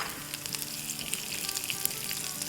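Whole cumin seeds and four crushed dried red chilies sauté in hot oil in a pan, giving a steady close crackling sizzle with scattered sharp pops throughout; no one speaks.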